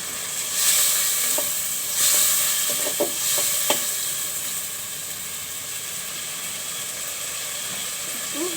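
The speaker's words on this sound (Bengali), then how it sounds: "দিয়ে দিচ্ছি মশলাগুলো একটু আমি কষিয়ে নেব" Spices being sautéed in a pan for a hilsa fish curry, a steady hiss and sizzle with a few sharp utensil clicks and scrapes near the start.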